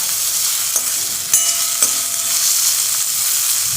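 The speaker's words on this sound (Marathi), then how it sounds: "कांदा थोडा ट्रान्सपरंट होऊ देऊयात" A small onion fries in a pan with a steady broadband sizzle, broken by a few sharp stirring clicks and scrapes around the middle; no voices.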